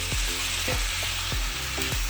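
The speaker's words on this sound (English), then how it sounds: "Let that get sauteed for 3-4 minutes until it changes color." Minced turkey sautéing in a hot pan gives a steady sizzle, with a few stirring scrapes every half second or so. No one speaks.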